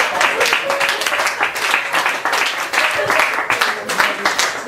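Audience clapping and applause at a live vocal distortion demonstration, a dense sustained patter of many hands with some voices mixed in, steady and fairly loud throughout.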